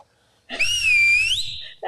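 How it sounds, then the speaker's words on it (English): A toy whistle is blown in one sustained, shrill tone lasting over a second, loud and close, with a faint low rumble beneath it. "Got a whistle in here."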